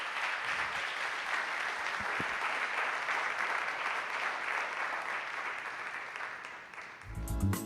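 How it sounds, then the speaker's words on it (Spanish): A church congregation gives the Lord a strong, sustained round of applause, dense steady clapping lasting several seconds before tapering off at the end. "damos un fuerte aplauso al Señor"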